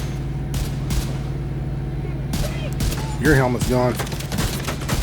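Gunfire in the video game The Division 2, a rapid burst of shots followed by further shots, with someone speaking over the firing and a steady hum underneath.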